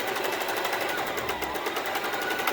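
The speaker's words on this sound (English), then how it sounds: "I'm just gonna start sewing" A sewing machine stitches a fabric scrunchie, its rapid steady needle chatter running continuously up close and alone for the whole stretch.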